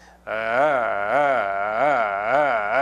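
A voice imitates a car engine failing to start, producing a sustained buzzy tone that wavers up and down in a steady rhythmic pulse, close and fairly loud.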